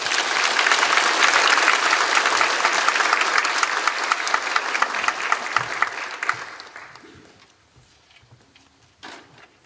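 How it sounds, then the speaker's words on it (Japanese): Auditorium audience applauding to welcome the Norwegian ambassador at a Kavli Prize laureate lecture event in Tokyo; dense, sustained clapping that fades out after about six seconds, leaving quiet room noise. "拍手でお迎えください"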